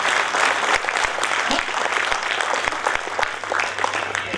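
Steady, vigorous clapping from an audience at a Hindi poetry gathering (kavi sammelan), many hands close together with a few sharper individual claps standing out and only faint voices underneath.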